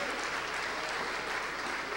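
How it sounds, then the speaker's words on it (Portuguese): Steady applause fills a church as the congregation claps in unison, a thick, continuous wash of many hands at close range with no pauses. "Podemos aplaudir o Senhor."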